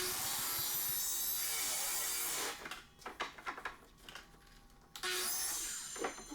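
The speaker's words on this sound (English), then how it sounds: "I found this to be a lot easier to use the chop saw" A chop saw cutting pipes in a woodturning workshop, heard as a loud, close, harsh grinding cut that gives way to rattling handling noises, then a second burst of cutting.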